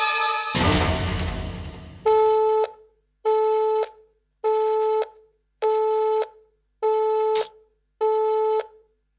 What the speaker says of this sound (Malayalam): തഹസിൽദാരുടെ ഫോൺ തിരക്കിലാണല്ലോ.